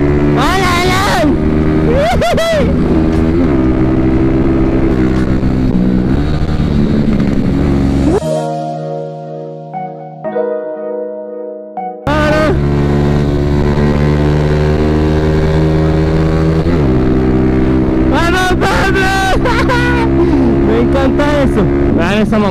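Loud racing motorcycle engines, including a 2018 Yamaha R1, roar and whine past in waves, with a brief lull in the middle before another close, revving pass.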